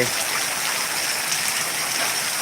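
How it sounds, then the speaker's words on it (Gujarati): Heavy monsoon downpour with rushing, flowing water around a flooded village in Bharuch, a steady loud broadband roar with no voices. "અંધરાધાર વરસાદ પડી રહ્યો છે"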